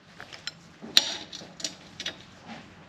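Ratchet wrench working on the strut of a Mercedes CL55 AMG, with a handful of quick, close metallic clicks at uneven intervals and one sharper tick standing out.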